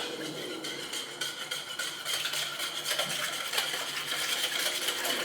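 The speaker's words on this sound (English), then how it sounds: "I'm going to whisk that in as well." A whisk working thyme and other herbs into an egg-and-bread strata mixture in a bowl, a steady close scraping and clinking that carries on without a break for several seconds, with no voices.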